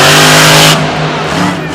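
A monster truck roars at full throttle during a Monster Jam run in Tampa, loud and close, the blast cutting off sharply partway through as a lower engine drone and crowd noise carry on, with an announcer talking over it.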